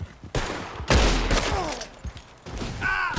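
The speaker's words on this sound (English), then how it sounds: "Oh, he shot my horse!" Gunfire in the Red Dead Online video game as a horse is shot: a burst of several loud, close shots in quick succession, with a brief game sound at the end.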